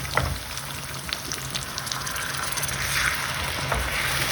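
Water poured into a hot pan of pasta sauce sizzles steadily close by, a constant crackling fry that swells slightly toward the end, with no talk.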